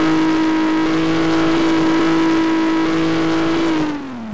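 A Volvo 940 car engine in the Gmod video game revving hard, a loud steady high-pitched engine whine held for several seconds before it drops off near the end.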